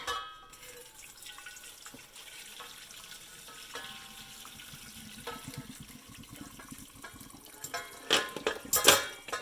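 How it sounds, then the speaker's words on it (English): Water from a pot of hard boiled eggs is poured into a colander in a kitchen sink, a faint steady splashing and draining that builds into louder clattering splashes near the end. "we're gonna dump them into our colander"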